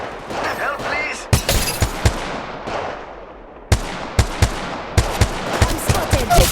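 Gunfire in Apex Legends as repeated sharp shots and bursts, some close and loud, others layered in a busy firefight, with voices heard among the shots.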